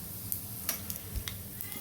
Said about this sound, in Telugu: పోపు వేగనివ్వాలి.